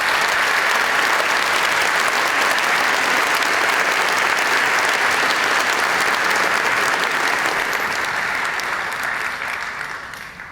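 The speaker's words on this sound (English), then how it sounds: "Let's please give him one more fun round of applause." A large audience applauds at the 2019 UNHCR Nansen Refugee Award Ceremony, loud and sustained for several seconds before slowly tapering off at the end.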